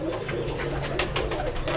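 Deep, throaty cooing of a large pet pigeon, repeated soft rolling coos heard close and fairly loud over faint background noise.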